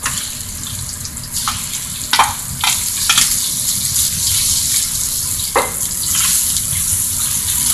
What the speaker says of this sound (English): spread them out so they can fry up and brown them evenly